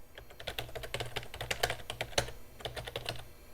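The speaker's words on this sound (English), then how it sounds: "Fine, I'll just type in the new path." Brisk typing on a computer keyboard while entering a file path on a 1990s desktop PC, a steady run of close, dense key clatter with a short pause before the keystrokes resume.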